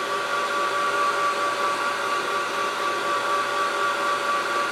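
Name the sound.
heat gun drying paint on an art journal page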